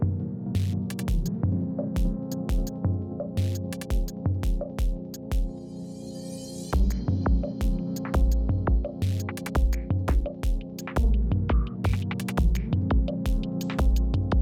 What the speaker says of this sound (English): This machine gives potato chips such an interesting shape